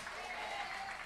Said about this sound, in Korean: 홍동영 목사님께도 뜨거운 박수를 보내주시기 바랍니다